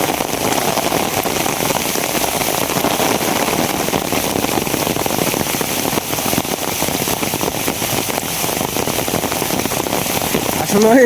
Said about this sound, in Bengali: প্রচন্ড বেগে বৃষ্টি